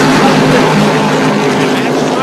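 NASCAR Whelen Modified race cars roar past at Thompson Speedway, a loud, continuous engine drone that fills the short stretch under a commentator's voice.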